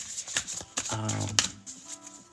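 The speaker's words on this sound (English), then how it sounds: "If it's comfortable in your ear with the tarot cards shuffling" A tarot deck being shuffled, with brisk riffling and soft card slaps up close while a person talks over it.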